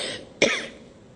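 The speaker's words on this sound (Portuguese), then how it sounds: "essa tosse alérgica por conta da secura de Brasília" A single sharp cough, an allergic cough from very dry air, bursts out close and loud, then trails off into quiet room tone.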